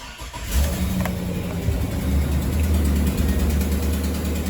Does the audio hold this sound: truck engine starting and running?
yes